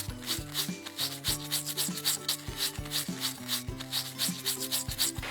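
A stiff brush scrubs fresh loquat leaves clean with quick back-and-forth strokes, a steady rhythmic rasping that repeats through the whole stretch over background music.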